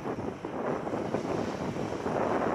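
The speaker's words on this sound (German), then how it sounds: "Seit gestern ist ja auch zu windig." Strong wind at a wind farm in Feldheim, Germany, buffets the microphone in a continuous rough roar that swells slightly toward the end.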